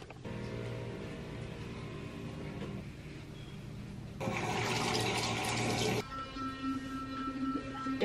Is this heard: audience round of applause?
no